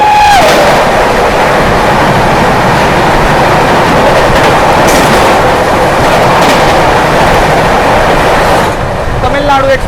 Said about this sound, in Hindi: सामने से आ रही है MGR Chennai central new Delhi Tamil Nadu